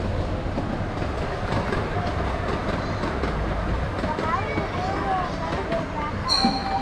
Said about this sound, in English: Come over here, you can see the train.